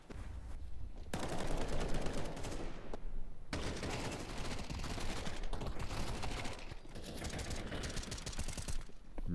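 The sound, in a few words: gunfire in a shooter video game esports match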